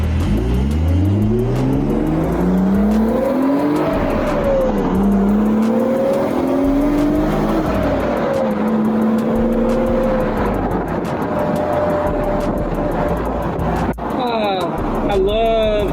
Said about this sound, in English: I love the way the supercharger sounds.